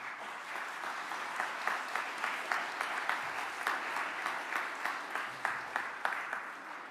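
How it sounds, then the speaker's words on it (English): A congregation at St. Mary's Sunday worship during Advent gives a round of applause, moderately faint and somewhat distant, its individual claps spaced in a loose, rhythmic patter. "let's give them a round of applause."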